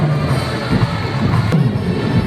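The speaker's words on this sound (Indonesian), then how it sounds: "Berikan tepuk tangan yang meriah" A large stadium crowd at the opening of a national Quran recital festival in West Sumatra claps and cheers in a dense, reverberant roar, with a sharp thump partway through.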